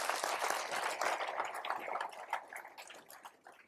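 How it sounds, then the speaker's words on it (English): A round of applause from a conference audience after a talk on the future economy, dense clapping that starts full and gradually thins and fades over a few seconds. "Please give him a round of applause."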